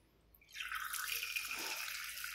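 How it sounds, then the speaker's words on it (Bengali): Water runs steadily from a washbasin tap, starting abruptly after a brief quiet moment and then flowing as a continuous close hiss with no voices. "এবার হাতটা ধুয়ে নাও, বেসিনের কলটা খোলো, আস্তে করে"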